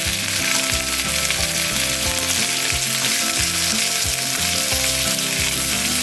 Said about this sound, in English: And now we add our cubed pork tenderloin. And we're going to saute this